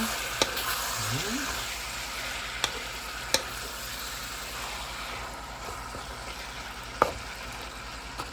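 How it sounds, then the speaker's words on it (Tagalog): Ingredients for Bicol Express sauté in a pan with a soft, steady sizzle, punctuated by a few sharp clicks of a utensil against the pan. "Igisa natin na mabuti para shareable ang kanyang lasa."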